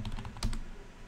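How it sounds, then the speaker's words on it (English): Computer keyboard keys are tapped a few times in a quick run, faint and close, with a steady background hum and no talking. "I'm bad at typing."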